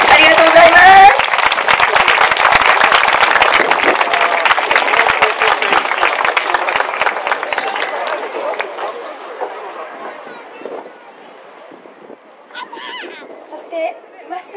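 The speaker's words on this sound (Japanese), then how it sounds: "皆さんもう一度大きな拍手をお願いします。" A large audience bursts into loud applause after a special live performance, the dense clapping gradually thinning and fading over several seconds until only scattered claps remain near the end.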